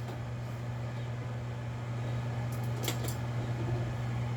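A microwave oven heating heavy whipping cream, a steady low hum running throughout at moderate level, with a few brief clicks near the end.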